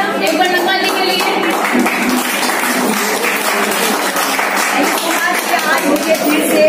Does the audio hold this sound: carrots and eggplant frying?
no